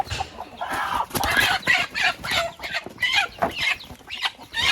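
A mother hen clucks in bursts while her eight small chicks cheep around her, a busy, close jumble of calls continuing throughout.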